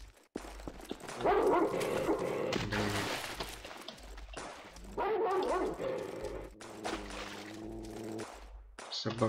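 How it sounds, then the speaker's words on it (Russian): A dog barking and yelping in the video game Stalker Online, in several loud bursts close by, mixed with game noise, while someone talks. "Собаку еще тут не хватало."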